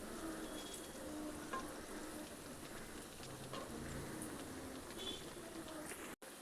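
Beetroot and yellow split pea vadas fry in hot oil over a medium flame, giving a steady, continuous sizzle and crackle with faint stirring clicks, no voices.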